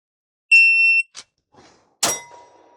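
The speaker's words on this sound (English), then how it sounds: "Absolutely have no idea how this shot timer works." A shot timer at a shooting range gives one sharp electronic beep lasting about half a second, followed by a single loud gunshot crack from close by in an otherwise quiet outdoor setting.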